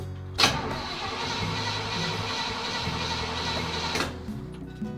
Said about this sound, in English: The engine's turning over.